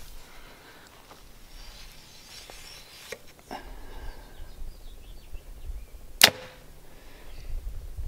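A Prime Logic compound bow fitted with dampeners fires once, giving a single quick, fairly muted snap against quiet outdoor background noise with faint birdsong.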